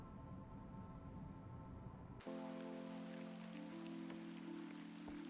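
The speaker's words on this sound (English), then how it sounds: "Oh, it's getting rainy." Rain in the video game The Excavation of Hob's Barrow: a steady hiss of falling rain that shifts abruptly into a brighter, denser downpour over a low tonal hum, continuous and fairly close, with no talk.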